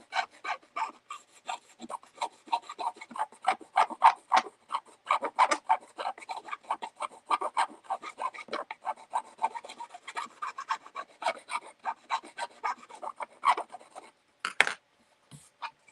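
Craft wood rubbed by hand with craft paper, a steady run of short dry rasping strokes in quick rhythm, close and moderately loud, ending with a couple of final scrapes.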